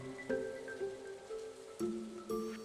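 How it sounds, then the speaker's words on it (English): Steady rain hiss in Stardew Valley, soft and constant, with game chimes and tones rising over it at intervals. "Standing in the pouring rain with no shirt on."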